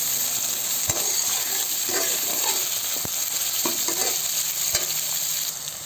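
Ingredients for semolina khichdi fry loudly in a pan, a constant dense sizzle broken by a few sharp clinks of the spoon against the metal as they are stirred.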